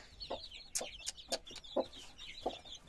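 Leghorn chicks and chickens clucking and cheeping in short, irregular calls, fairly close, with high peeping chirps running underneath.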